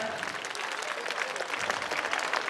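Audience at a school alumni meet gives a round of applause, a thick, continuous patter of many hands clapping at steady volume throughout.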